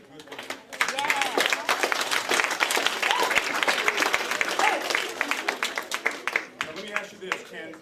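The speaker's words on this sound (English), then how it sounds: "I want you guys to give yourselves a round of applause" A young audience at a school-style program gives itself a round of applause, with brisk dense clapping and a few cheers that build quickly and then taper off.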